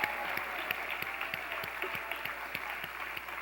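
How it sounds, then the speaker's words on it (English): Audience applause at an African heritage celebration in DC, a steady wash of many hands clapping that holds at an even level throughout, with no voices standing out. "I really want you to all to give her a really big applause"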